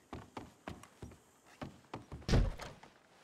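A locked wooden door is tried in Red Dead Redemption 2, giving a run of dull knocking thunks at a steady pace, then a louder heavy rattle and bang near the end, with no speech.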